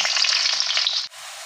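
Onions with a bay leaf fry in oil, a loud, bright crackling sizzle up close that suddenly drops to a softer, even hiss about a second in.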